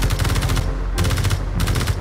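Spaceship guns in the game Escape from Mars fire in loud rapid bursts, with three clusters of fast repeated shots over a heavy low rumble.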